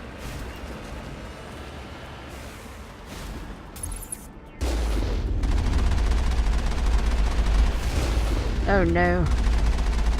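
Turret gunfire in a PC shooter game: sustained rapid automatic bursts and booms, loud and close, continuing under a player's brief spoken reactions.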